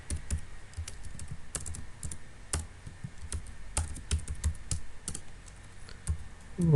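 Rapid, uneven keystrokes on a computer keyboard while entering text into an Excel spreadsheet, close and crisp, with short pauses between bursts of clicks and no talking.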